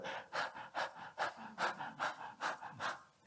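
A voice imitates rhythmic breathing: eight steady, loud, airy breaths, evenly spaced, each a sharp hiss, with no talk.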